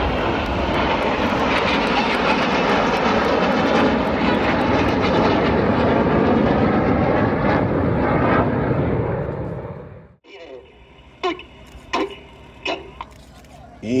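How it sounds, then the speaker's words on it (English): RAF Red Arrows jets roar overhead in formation at an airshow in Oregon, a loud, sustained engine rush for about ten seconds that cuts off abruptly, followed by quieter clicks and handling noises. "Red 1 about to bank the aircraft to the left, changing smoke colour as they go in tornado."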